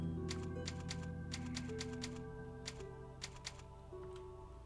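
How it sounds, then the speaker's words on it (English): Typewriter save-point typing from the video game Resident Evil 4: a few sharp clacking keystrokes in short clusters over steady game music, fairly close and alone with no talk. "Typewriters are the save points"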